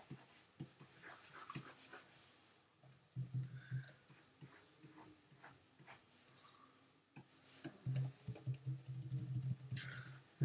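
Wacom stylus rubbing back and forth across a drawing tablet surface while erasing, producing bursts of soft scratchy friction in several close, moderately loud passes separated by brief pauses.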